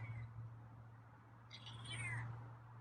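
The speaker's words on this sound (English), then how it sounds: "Soft meows today." A feral cat gives a couple of soft, faint meows, one brief and one longer rising one, over a low steady hum with no speech.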